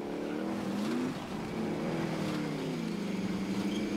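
A motorcycle engine in the video game Warzone drones steadily nearby with a buzzing, slightly wavering pitch that rises and dips as the throttle shifts, with no speech over it.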